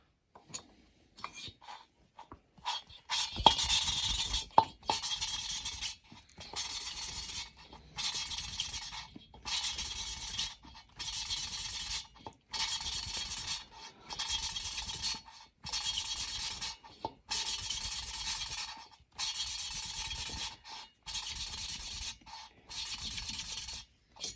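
Engine valve lapped against its seat in a cylinder head with abrasive lapping compound, a rhythmic series of gritty scratching strokes in repeated bursts about a second long with short pauses between, close and steady, no talking.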